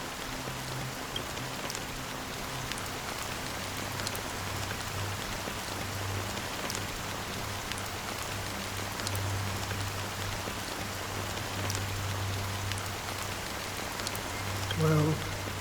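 Steady rain falls in Honkai: Star Rail, a soft constant patter with scattered drops over a low hum, continuing evenly throughout.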